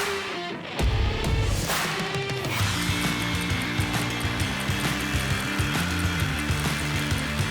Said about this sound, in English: let's see what the new sawzall blade can do